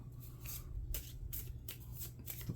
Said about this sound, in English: Let's give these a little shuffle real quick.